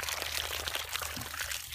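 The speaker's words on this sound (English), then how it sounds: "I like to give them all at least like 3 gallons of water." Water from a container pours steadily onto potted marijuana plants, making a continuous close splashing and gurgling that lasts a couple of seconds, with no talking.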